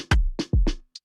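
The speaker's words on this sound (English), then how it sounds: "And it's using sound off the block drums." A short programmed drum pattern: deep booming kicks alternate with crisp snare hits and a small hi-hat tick, dry and close.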